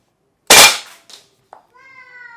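An airsoft gun fires a single loud, sharp shot, followed by a brief mechanical rattle and a short click, then a faint tonal hum as it settles; no talking.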